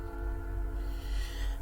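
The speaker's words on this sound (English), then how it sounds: "a train's going by." A train passing nearby gives off a steady low rumble with sustained tonal humming, continuous and moderately loud throughout.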